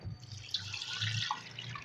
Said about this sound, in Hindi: तो इसके अंदर हम 4 गिलास वाटर ऐड कर रहे हैं